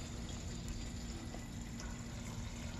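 Liquid, likely fuel, pours steadily from a quick pour spout into a garden tractor tank, a continuous, fairly quiet gushing rush that holds even throughout.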